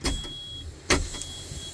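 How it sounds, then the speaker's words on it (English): Air brakes being released on a truck during an in-cab brake test: two short, sharp bursts of hissing air, about a second apart, over a steady low idle. "I'm going to release both brakes."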